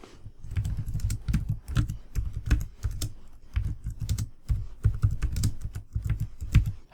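Rapid typing on a computer keyboard, close and clear, with irregular bursts of clicking keystrokes separated by brief pauses, and no talking.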